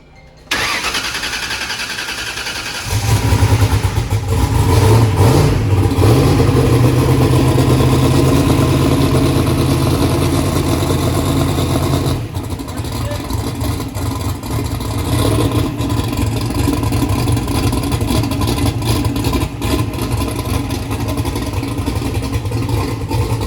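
A big engine fitted with a 118mm turbo cranks and catches after a few seconds, then revs hard in a loud, sustained roar, eases off slightly and keeps running near the listener, with no talking.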